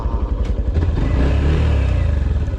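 A Honda Activa scooter engine drones steadily up close, a low, rumbling putter with some rattling that holds constant throughout.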